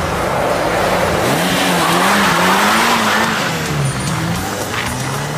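A stolen car speeds off with its tires squealing in a loud, wavering screech over a steady engine roar, sustained and close throughout.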